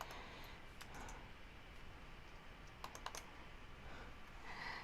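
Fingers typing on a computer keyboard, quiet and close, with a few short bursts of key clicks spread over a faint background hiss and no voices.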